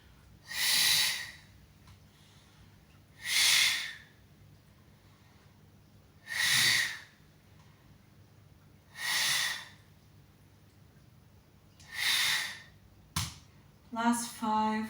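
Forceful, explosive exhales during a calf-focused Pilates workout, five or six loud breathy bursts spaced a few seconds apart, close to the mic, followed by a brief voice at the end.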